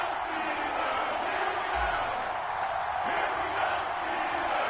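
A stadium crowd roars continuously in an EA Sports NFL video game before a Cleveland Browns and Pittsburgh Steelers matchup, a dense, steady wash of cheering and shouts with commentary over it.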